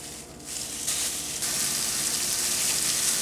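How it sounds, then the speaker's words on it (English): Burrito filling frying in a pat of butter, a steady close hiss of sizzling that swells slightly and holds throughout with no talk. "So we're going to go on and fry this."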